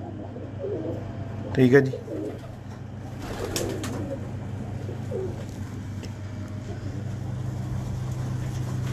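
Pigeons bred by a fancier named Mubashar coo softly beneath steady background noise, with a louder burst of calls near the start and someone talking briefly over them.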